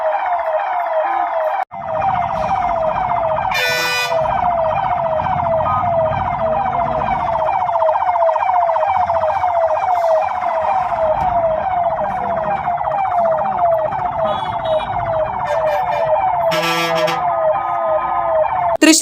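An ambulance carrying a patient sounds its siren continuously while stuck in traffic blocked by private buses at Kanjani centre on the Thrissur–Vadanappally state highway, loud and close, with short bursts of horn or noise.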